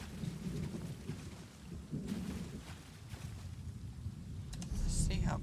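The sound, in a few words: rumbles of thunder in Elder Scrolls Online video game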